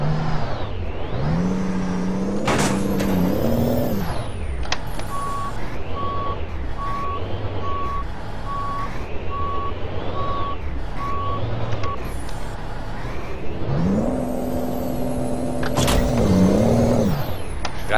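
A stuck AI tractor-trailer in a driving game revs its engine in surging, rising and falling waves, with a steady reversing beep pulsing through the middle stretch; loud, close and continuous, with no talking.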